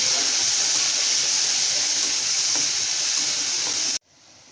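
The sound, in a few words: shrimp frying in a pan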